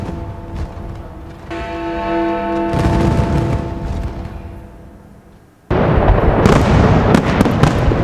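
Big New Year fireworks display over Big Ben in London welcoming 2020, with loud crackling bursts and booms. A sustained tonal stretch gives way to a sudden, dense barrage of crackle near the end.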